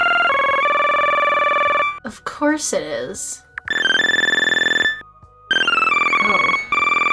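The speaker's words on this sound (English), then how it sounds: "Ah, what a good ringtone." Bright electronic phone ringtone from a visual novel game chimes in repeating melodic bursts, broken by a short stretch of spoken voice before ringing resumes loud and close.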